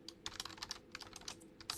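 Fast, light typing on a computer keyboard runs close and soft, a quick patter of keystrokes in uneven bursts with a faint steady hum beneath and no voices.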